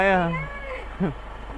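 A kitten meows loudly up close, a drawn-out cry followed by a second shorter mew, with a person talking alongside.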